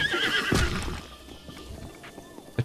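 A horse in Zelda: Breath of the Wild lets out a loud, close whinny, followed by hoof clip-clops and a few soft snorts, with a faint voice briefly in the background.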